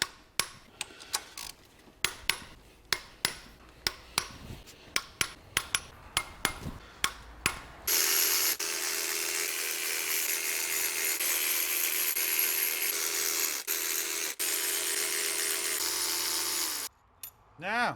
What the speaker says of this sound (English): and then whip them off with the power tools afterwards